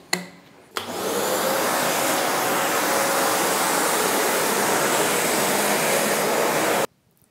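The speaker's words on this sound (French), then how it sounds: "Et on en profite pour aspirer l'eau qui est derrière." A vacuum cleaner sucking up flood water behind a barrier in a house roars loud and steady for several seconds. It switches on with an abrupt start and cuts off sharply at the end.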